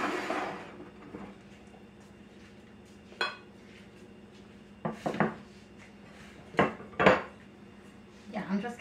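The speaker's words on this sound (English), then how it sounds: "I'm going to put a little bit of butter on these." A knife spreads butter across ciabatta bread, heard as scattered clinks and scraping strokes on a plate, several quick bursts spread over a quiet background.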